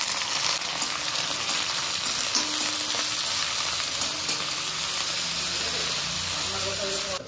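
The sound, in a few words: small shrimp frying with garlic and chillies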